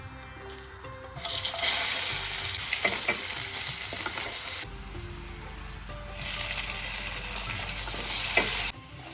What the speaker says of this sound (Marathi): आता त्यामध्ये आपण कांदा आणि टमाटो चांगलं भाजून घेऊया.